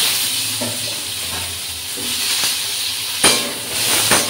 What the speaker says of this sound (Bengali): প্রথমে আমি আলুগুলো দিই, আলুটা ভাজা হয়ে গেলে চাল কুমড়োটা দিয়ে দেবো